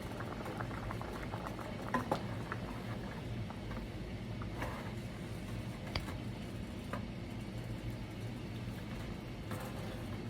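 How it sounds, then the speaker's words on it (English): A pot of chicken boils quietly and steadily, soft gurgling and occasional small pops and ticks over a low background hum. "And so the chicken portion is boiling."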